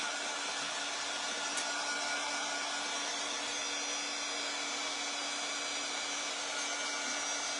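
Steady, loud whirring blast of a heat tool drying a chalk paste transfer on a bandana-pattern sign, running continuously without pause and no voices over it.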